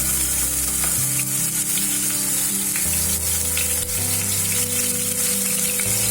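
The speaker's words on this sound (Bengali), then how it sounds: "গোটা গরম মশলার পর দিয়ে দেবো আমি একটু রসুন।" Garlic hits hot oil already holding whole garam masala, giving a loud, continuous sizzle with faint stirring scrapes and crackles, with no talking over it.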